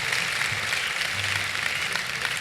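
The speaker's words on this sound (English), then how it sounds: "That deserves some applause." Audience applause at an opening convocation ceremony for a long-serving ceremonial marshal, a brief, steady spell of clapping from a seated crowd, fairly even in level.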